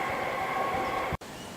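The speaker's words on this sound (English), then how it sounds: "Again, another train not stopping at the station, which means it cannot function as an interchange station." A Seaford train runs through Goodwood Station in Adelaide without stopping, a steady loud rumbling roar throughout with a brief cut near the end.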